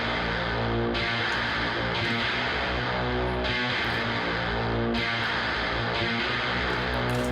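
Electric guitar run through an emulated old-school British amp with a flanger, a dense, steady, loud wall of sustained sound with chords changing about every second and no voices.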